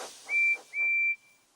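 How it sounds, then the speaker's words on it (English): A steam engine whistle from Thomas the Tank Engine, two clear shrill toots in quick succession, the second longer, loud and close with no talk. "Now Percy's whistle sounds very loud."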